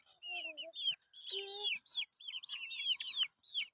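Chicks being fed, a flurry of high, rapid peeping and chirping calls with a few lower clucks, close and continuous in short bursts.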